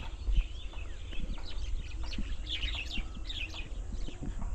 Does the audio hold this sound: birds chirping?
yes